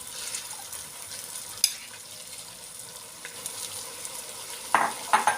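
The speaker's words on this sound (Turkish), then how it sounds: "Tekrar karıştırıyoruz." Lentils being stirred into a chicken soup in a pot, a steady soft scraping and swishing with a faint simmering sizzle, and a few sharper clinks of the spoon against the pot near the end.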